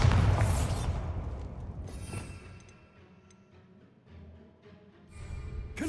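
A Bombarda blasting spell goes off in the Hogwarts Legacy video game: a loud booming burst at the start, then a long rumbling decay with small debris clatter and a second swell near the end.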